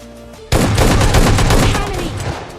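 Shotgun blasts in the battle royale game PUBG Lite, a dense rapid burst of loud booming gunfire erupting suddenly and continuing for about two seconds before tailing off.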